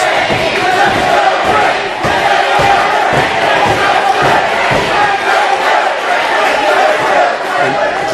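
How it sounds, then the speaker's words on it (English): A loud, chaotic crowd at a wrestling event roars and cheers continuously, with shouting and chatter filling the whole stretch close and dense. "It is a chaotic atmosphere. The entourage is cheering very vociferously for Katie."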